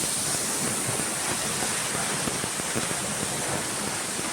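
A waterfall near Ranchi roars in a dense, steady, broadband rush of falling water, loud and close, with no voices over it.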